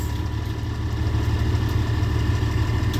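A truck engine idles nearby outdoors, a steady rumbling drone with an even low throb and no change in pace the whole time.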